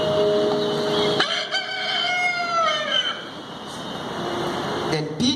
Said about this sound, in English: Before the rooster crows, you will disown me 3 times.